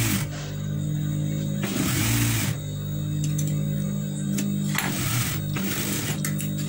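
An electric sewing machine stitches piping onto a churidar sleeve, running with a loud steady mechanical whir that pauses briefly and restarts, with light clicks of the fabric being handled.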